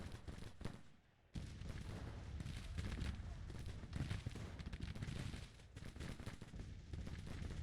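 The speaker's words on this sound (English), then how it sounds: "A 3-inch ordnance rifle." In the Grand Tactician Civil War strategy game, 3-inch ordnance rifles fire amid a battle, with booming artillery shots and crackling musketry in rapid, overlapping bursts and a brief lull near the start.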